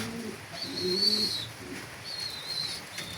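A pigeon coos in a few soft, low, rolling calls close by, with faint higher chirps from other birds behind it.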